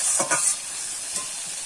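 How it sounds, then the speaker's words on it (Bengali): Soft, cooked-down tomato being stirred and fried in a pan for a vegetarian banana flower curry: a constant close sizzle with a couple of quick scraping stirs at the start and a faint one later. "টমেটোটা কিন্তু নেড়ে চেড়ে কিন্তু দেখো নরম হয়ে গেছে, মানে গলে এসেছে টমেটোটা।"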